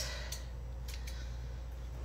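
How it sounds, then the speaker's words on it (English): A few short, crisp snips of scissors, close by, over a low steady background hum. "Scissors."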